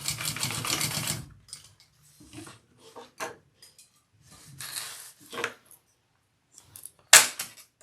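Sewing machine stitching two handbag lining pieces together, heard in a loud opening burst followed by short intermittent runs and clatters, with no speech.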